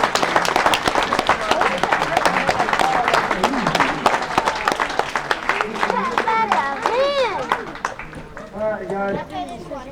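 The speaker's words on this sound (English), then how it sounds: "give a round of applause to the cast of Dogwood Pass" Audience at an old west town show applauding the cast of Dogwood Pass, dense sustained clapping across the whole stretch with crowd chatter and excited voices rising toward the end.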